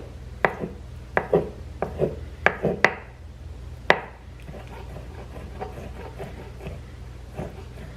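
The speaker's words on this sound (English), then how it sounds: "I'm gonna take a piece of it and chop it into small chunks" Knife chopping a potato on a cutting board for twice-baked potatoes, a series of sharp, close taps in irregular bursts, then softer, quicker cuts.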